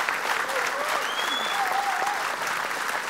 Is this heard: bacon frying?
no